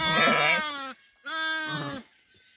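Sheep kept by nomadic shepherds bleating twice in quick succession, near and loud, each a wavering drawn-out cry with a short gap between.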